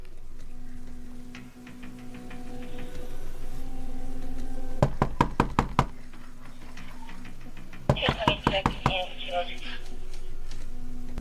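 Police officers knock hard on an apartment door in a hallway during a welfare check, two bursts of loud, rapid raps with a pause between, over a steady low room hum.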